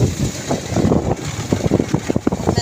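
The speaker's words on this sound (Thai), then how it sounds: "ลมแรง" Strong wind gusts buffet the microphone outdoors in rural Thailand, producing loud, uneven low rumbling bursts that rise and fall through the whole clip.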